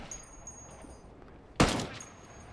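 A single M110 sniper rifle shot in Ghost Recon Wildlands rings out as one sharp, loud crack with a short decaying tail over quiet background ambience.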